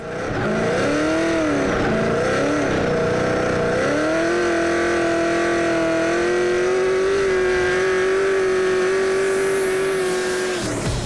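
A Nissan 350Z fitted with a Magnuson-supercharged LS3 V8 making about 800 horsepower revs loudly and close up, the engine rising and falling through several sustained pulls before cutting off abruptly, with no talk.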